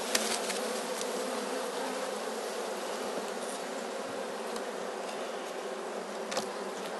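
Honey bees humming inside a hive while a queen cell is set between the frames, a dense steady buzzing drone close up, with no voices.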